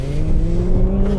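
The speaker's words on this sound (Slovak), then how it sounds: "Tu môžete počuť na otáčkach, keď to je v automatike, tak tie klesnú" A Jeep 1.3 plug-in hybrid engine running loud and close, its steady drone sliding slowly up and down in pitch as the revs rise and fall, with no talking.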